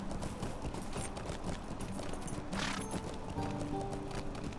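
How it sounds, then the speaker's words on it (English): Horse hooves clip-clop steadily while riding through Southbury in an online game, a continuous rhythmic trot of hoofbeats heard over a busy, dense game soundscape with an occasional whinny. "let's ride around. So here's what we got as a horse."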